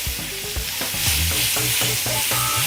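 A Philly steak sizzles on a griddle, a steady loud hiss close up with rhythmic scraping and tapping of a spatula across the hot surface.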